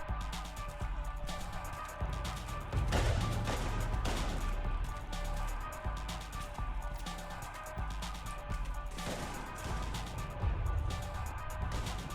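Sustained gunfire in Mass Effect 3 Legendary Edition on Insanity difficulty, with rapid bursts layered over music and combat noise, loud and dense throughout with heavier volleys around the middle.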